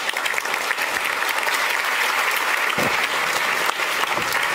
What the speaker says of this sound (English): Can I have a big round of applause,